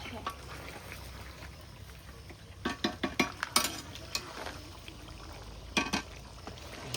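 Fried cumin and black pepper being stirred in a pan, a steady soft sizzle with scattered scraping clatters of a utensil against the pan, close up, under a person talking.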